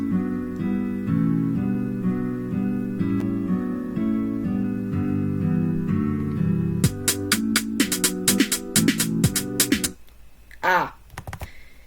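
Programmed drum beat played with an open hi-hat instead of a closed one, the hits giving way after a few seconds to a rapid run of sharp, repeated strikes over a sustained tonal backing, then a brief quieter tail.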